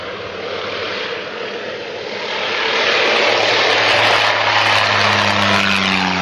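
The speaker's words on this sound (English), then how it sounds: "This plane taking off straight towards a landing plane." An airplane takes off, its engine roar building steadily from moderate to loud and holding near and strong, with a rising engine tone under the broadband rush.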